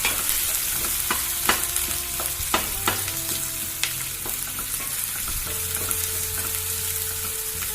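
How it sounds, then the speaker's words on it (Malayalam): Ginger, garlic and green chili are stirred as they fry in a pan for a Kerala-style squid roast, with a steady loud sizzle and sharp spatula scrapes and clicks against the pan at an irregular pace. "ഇഞ്ചി, വെളുത്തുള്ളി, പച്ചമുളക്, നന്നായിട്ട് ഇളക്കുക."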